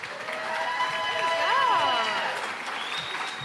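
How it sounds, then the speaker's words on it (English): Applause at a cystic fibrosis charity crossing awards ceremony, a steady wash of clapping that lasts about three seconds, with a rising and falling whoop-like tone and voices over it, then easing off. "give her another big round of applause"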